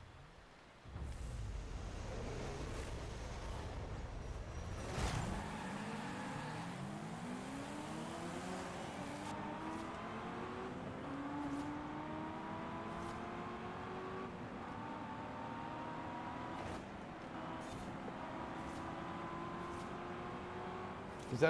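Mustang GT racing in Forza Horizon 5 on PS5 during a sprint event: the engine roars up after a quiet start, then climbs through repeated rising revs and gear shifts, loud and close, with brief clicks near the end.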